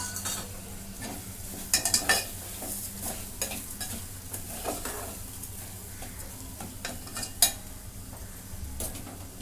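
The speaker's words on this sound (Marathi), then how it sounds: "आता ह्याच्यामध्ये ही डाळ आहे ना ती टाकून घेते" Moth bean dal sizzles steadily in a hot pan while a utensil stirs and scrapes against the metal, with a few sharper clinks along the way.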